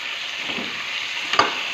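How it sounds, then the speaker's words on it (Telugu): Eggplant and onions fry in hot oil, giving a steady close sizzle with a brief scrape or clatter near the end. "ఇప్పుడు వంకాయలు వేసుకొని బాగా ఫ్రై అయ్యే వరకు బాగా ఏగే వరకు వంకాయల్ని బాగా వేయించాలి"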